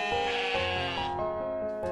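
A sheep gives a single drawn-out, wavering bleat close by, fading briefly before a short second call rises at the end, with no talking.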